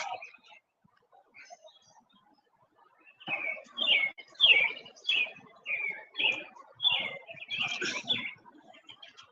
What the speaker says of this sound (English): I got the birds chirping in the background and everything sounds real serene